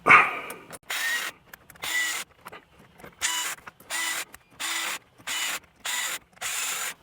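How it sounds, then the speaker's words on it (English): A power drill on a low torque setting drives steering wheel bolts into a Land Rover Defender, giving about eight short even bursts of whirring with a clicking clutch ratchet between pauses, close up and alone. "I'm going to put it on a low torque setting and then just go one at a time"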